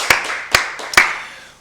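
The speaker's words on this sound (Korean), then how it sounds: "우리 박수로 하나님께 드리겠습니다." Three sharp, separate handclaps from a church congregation during a Korean Wednesday worship service, with a short decaying ring after each.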